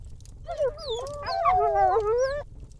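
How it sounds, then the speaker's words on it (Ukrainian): A drawn-out, wavering howl from a cemetery rises and bends in pitch for about two seconds, quavering and mournful, heard alone over faint low rumble. "З цвинтаря долинуло скривджене виття"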